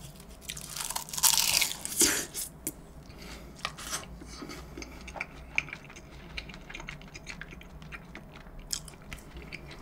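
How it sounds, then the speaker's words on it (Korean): Crunchy bites and chewing of Spam curry and tteokgalbi, a burst of loud close crunching early on, then softer intermittent chewing and clicks. "오늘 씹는 속도가 달라요?"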